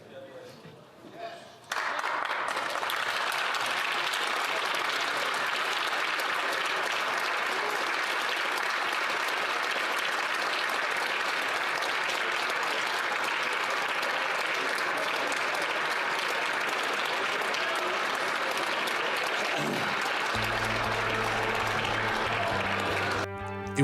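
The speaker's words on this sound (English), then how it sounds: "Did you see that round of applause from the Conservatives?" Conservative MPs in Parliament break into a long, sustained round of applause, a dense, loud clapping roar that starts abruptly and runs steadily for about twenty seconds before cutting to other sound.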